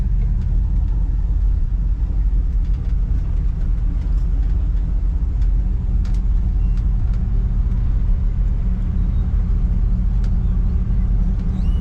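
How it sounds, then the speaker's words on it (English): A hot rod with an LS3 V8 engine making 480 horsepower idles nearby at a car show, giving a steady, deep low rumble that runs unbroken throughout with light crowd noise around it. "LS powered automobile, LS3, 480 horsepower"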